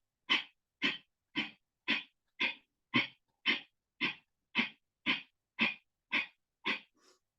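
Kapalbhati yoga breathing, a rapid series of about thirteen forceful nasal exhalations in an even rhythm, each a short sharp puff, close and alone in a quiet room.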